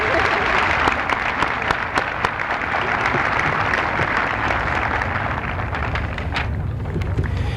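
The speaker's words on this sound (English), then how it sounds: "You may now applaud for those folks." A high school commencement audience applauds steadily, a dense, continuous wash of clapping from a large crowd that holds at an even level throughout, with no talk over it.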